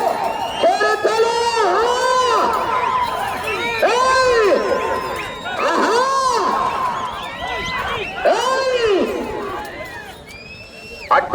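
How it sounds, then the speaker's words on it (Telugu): A crowd at a bull pulling contest during a temple festival shouts and whistles loudly, with rising and falling whistles and calls repeating in waves over a constant roar of voices. "గట్టిగా విజిల్లు కేకలు"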